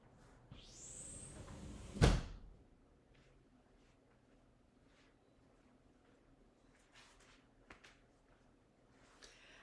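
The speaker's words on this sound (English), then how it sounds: "Let me go close that door for a sec." A door is pushed shut in a quiet room, making one loud close near the start, then faint handling noises in a quiet room.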